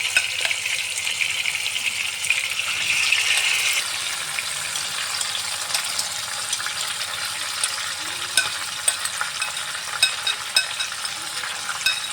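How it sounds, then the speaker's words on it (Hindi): Mutton stir-fried on high flame in a pan, a steady loud crackling sizzle with intermittent scraping and stirring clicks throughout. "हाई फ्लेम में 5 से 10 मिनट अच्छे से इसको भून लेंगे।"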